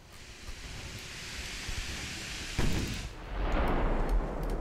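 Naval guns fire in the Ultimate Admiral 1920 German campaign battle, with a low rumbling bed broken by two heavy booming salvos that roll on into a loud, washing roar.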